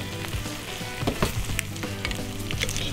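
Eggs sizzle steadily in a hot breakfast frying pan, a dense crackling hiss with scattered sharper pops and faint scraping as the eggs are nudged around.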